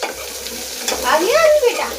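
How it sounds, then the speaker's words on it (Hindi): Garlic and onion fry in a pan with a steady sizzle, close and fairly loud, while a voice talks over it in the second half. "अभी आ गया और ये डाल दिया है मैंने लहसुन प्याज वगैरह।"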